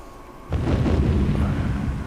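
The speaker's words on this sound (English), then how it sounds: "I can hear other bombs going off." Bombs detonate in the Eurofighter EF2000 flight game with a sudden low boom halfway in, followed by a heavy, sustained rumble that carries through to the end with no talk.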